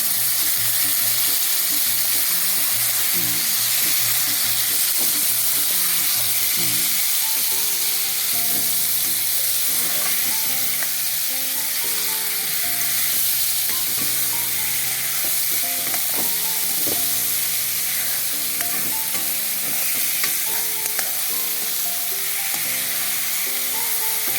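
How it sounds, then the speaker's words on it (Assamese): Lentils and potatoes frying in a pan with onions, stirred with a spoon: steady loud sizzling throughout, with repeated scraping and clinking of the utensil against the pan and no voices. "দাইল আৰু আলুখিনি এনেদৰে অলপ সময় ভালদৰে লৰাই"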